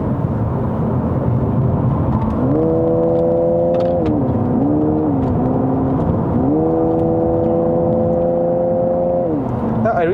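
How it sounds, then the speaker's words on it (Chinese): A GWM Ora 07 Long Range electric car accelerates hard in Sport mode, its steady rising motor whine sweeping up in two long pitch climbs over constant road and cabin noise, close and fairly loud. "那 Iris 蛮快的嘿，直线加速不输哎"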